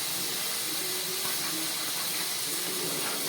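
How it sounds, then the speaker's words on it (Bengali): Mango chutney boils in a pot with a steady close hiss and soft, constant bubbling, and no voices over it. "আমের চাটনিটা ফুটে উঠেছে।"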